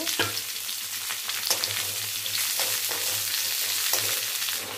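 Garlic frying in oil in a pan, a loud, steady close-up sizzle with faint crackles and occasional light stirring, with no talking.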